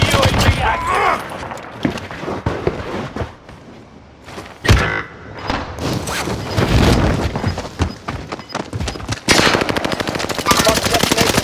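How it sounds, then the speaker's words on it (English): Call of Duty Warzone gunfire on Rebirth Island: bursts of automatic weapon fire and single shots, loud and close, in irregular clusters with a dense burst near the end, with voices speaking over the action. "Got contact. Shooting at me!"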